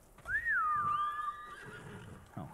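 A horse neighs in the video game Ghost of Tsushima, a loud, high whinny that falls and then holds steady before trailing off, with faint background game sounds underneath and no talking.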